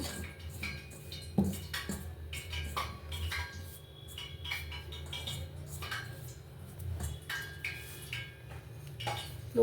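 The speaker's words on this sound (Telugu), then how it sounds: "ఇప్పుడు బియ్యం పిండి పుట్నాల పప్పు 2 కలిపి జల్లించేసానండి. అంతా పిండి ఇదంతా ఒకసారి కలిపేద్దాం." Sifted rice flour and roasted gram flour being mixed by hand in a bowl for murukulu dough, giving soft rubbing and a series of light clinks and taps against the bowl, close and fairly quiet.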